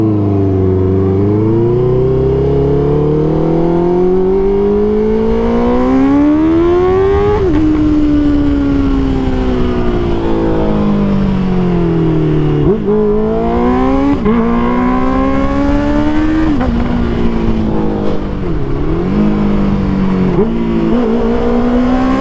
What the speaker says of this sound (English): Have to love this exhaust.